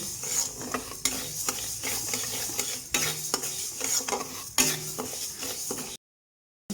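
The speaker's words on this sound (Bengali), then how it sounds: "মুগ ডালটিকে ভালোভাবে আমি ভেজে নেব" Moong dal being fried in a pan, with repeated scraping stirs of a utensil over a soft sizzle, close and steady for about six seconds before cutting to silence.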